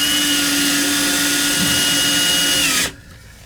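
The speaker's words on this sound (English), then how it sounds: "So get a couple of screws loose now." A power tool loosening screws on a small hand sink faucet runs with a loud steady whine for about three seconds, then cuts off to near silence.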